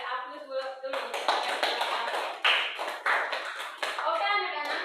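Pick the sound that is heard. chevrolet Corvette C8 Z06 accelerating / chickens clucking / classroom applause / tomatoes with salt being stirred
classroom applause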